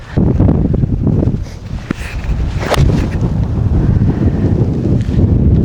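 Strong wind gusts across an open golf course fairway buffet the microphone with a loud, continuous roar that rises and falls, with no one speaking.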